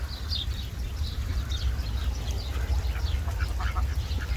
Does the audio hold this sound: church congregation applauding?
no